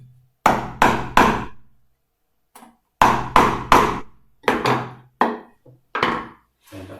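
Hammer tapping a wooden joint down a few millimetres, sharp loud wooden knocks in quick groups of two or three, separated by brief pauses, with a few lighter taps between.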